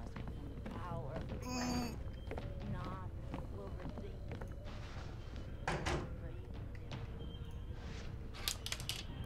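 A door creaking open in the horror video game Outlast 2, heard as brief scraping and clunking amid dense game ambience, with voices overlapping throughout.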